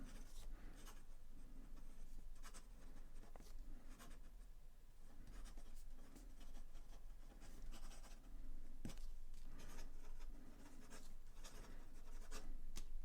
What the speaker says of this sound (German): Dann machen wir nochmal schnelles Schreiben.